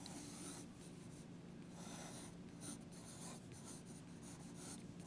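A pencil sketches on paper up close, with quick scratchy strokes rising and falling in bursts as a scene is roughed out, and no talking.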